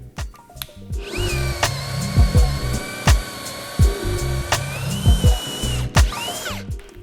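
A Bosch right-angle drill bores into material: a loud, high motor whine that holds steady, broken by repeated bursts and thuds as the bit bites and the load changes, close up with no talking.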